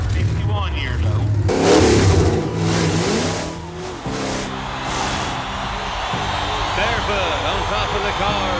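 A monster truck with a blown, injected 454 Chevrolet engine revs loudly and close by, its roaring pitch rising and falling over several seconds. A voice talks over the engine from time to time.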